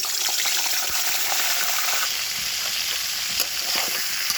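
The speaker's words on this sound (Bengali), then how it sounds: "কড়াইতে সয়াবিন তেল দিয়েছি, তেল গরম হয়ে গেছে, মুরগি দিয়ে দিয়েছি।" Chicken pieces frying in hot soybean oil in a wok, a steady broadband sizzle with small crackles and pops, loud and close, with no talking.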